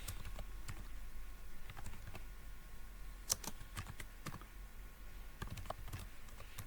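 Quiet, irregular keystrokes on a computer keyboard while a formula is entered in Power BI, scattered clicks over a steady low hum, with one sharper tap near the middle.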